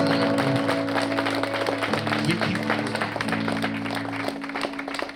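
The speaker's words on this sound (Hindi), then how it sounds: "हम ताली मारते हुए परमेश्वर को धन्यवाद।" Youth camp worship congregation clapping hands in thanks, dense rapid clapping over sustained musical tones, moderately loud and fading slightly toward the end.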